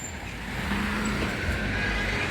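Evening rush-hour road traffic in Bahçeşehir Esenkent gives a steady, close rumble of passing cars and heavier vehicles, a continuous broadband roadway wash with no talking.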